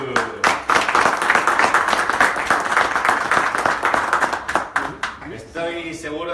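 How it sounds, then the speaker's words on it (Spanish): Audience applause at a masterclass event, dense and loud clapping sustained for about five seconds, then tapering off as a voice begins speaking over the last moments. "Os voy a pedir un gran aplauso para ella, Lulu."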